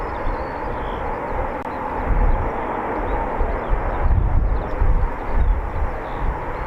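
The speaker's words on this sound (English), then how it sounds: "so we've got some Typhoons coming out now" RAF Typhoon FGR4 jets taxi out at RAF Coningsby, a steady, loud broadband engine roar with swelling rumbles, heard alone without talk.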